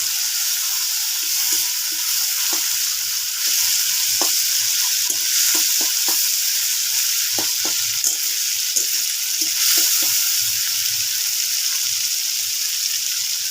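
Chopped tomatoes frying in oil with cumin, dried chilli and bay leaf for a jackfruit curry, a steady close hiss of sizzling broken by frequent stirring clicks and scrapes in the pan, with no talking.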